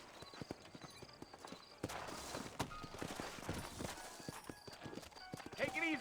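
Horses in the video game Red Dead Redemption on PlayStation 5, steady hoof clip-clops on a town street near the listener, with a brief whinny and game characters talking over them.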